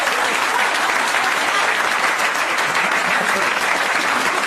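A large audience breaks into loud, sustained applause, with dense uniform clapping across the whole stretch and no break in intensity.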